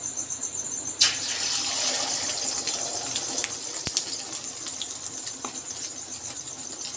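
An egg hits hot oil in a pan on a high gas flame and sets off a sudden loud sizzle. The steady crackling hiss then continues, with small pops and light clatter.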